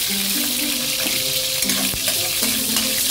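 Garlic frying in hot cooking oil in a pan, a loud continuous hiss and crackle with faint clinks of a utensil over a hum, close and steady, no talking.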